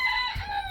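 A rooster crows briefly at a distance, a short harmonic call heard fairly faintly.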